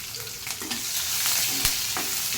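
Curry leaves, grated ginger and green chillies roasting in hot oil for rava idli, giving a dense, even sizzle with a few soft scraping stirs throughout, no voices.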